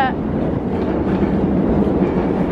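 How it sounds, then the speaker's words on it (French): A New York subway train rumbles past underneath, a loud, continuous low roar with faint rhythmic rattling that holds steady throughout, heard from street level above. "C'est le métro qui va dessous."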